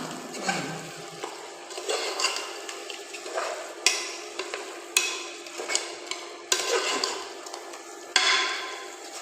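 A spoon stirs chicken with chili, masala and salt for biryani in a pan, with repeated scraping strokes and sharp metallic clinks over a soft sizzle, the hits landing every second or so.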